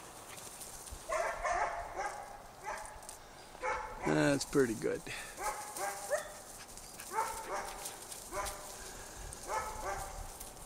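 Several Swedish and Norwegian puppies bark and yip repeatedly in quick, high-pitched bursts close by, with someone talking over the racket.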